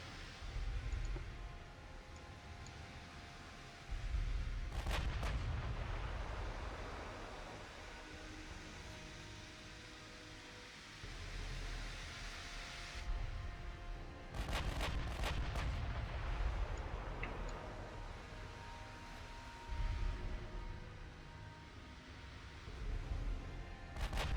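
Heavy naval guns firing in the warship game Ultimate Admiral Dreadnoughts, 16.9-inch shells with low muzzle velocity, booming in several loud bursts over a continuous low rumble of battle ambience.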